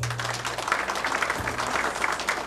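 Applause from a gala audience at an inaugural celebration, a steady wash of many hands clapping at moderate distance, continuous throughout with a low hum beneath.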